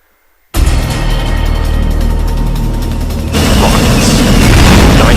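Giant rockets explode in Metal Gear Solid Peace Walker during a boss battle, a dense continuous roar of blasts and gunfire that kicks in abruptly after a moment of quiet and grows heavier and louder partway through.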